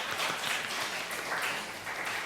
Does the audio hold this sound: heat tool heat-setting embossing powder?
no